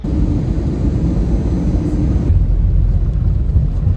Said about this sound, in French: me voici sur le tarmac